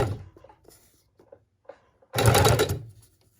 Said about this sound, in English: put our needle down, raise our foot, pivot, put our foot back down, and sew up the peak of that Christmas tree